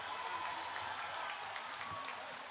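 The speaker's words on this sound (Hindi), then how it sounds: "उन सब की स्वागत में और एक जोर से तालियां हो जाए" A rally audience in Meghalaya claps to welcome guests, a steady wash of applause held throughout, fairly distant and soft.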